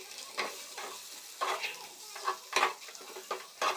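Boiled eggs, lightly scored, being fried and stirred in masala in a pan for egg biryani: soft sizzling with repeated scraping stir strokes in an irregular rhythm, close and fairly quiet.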